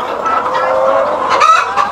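A flock of hens clucking on a poultry farm of about 1500 birds in a 1200 m² building, dense overlapping clucks and squawks, steady and close, with no voices.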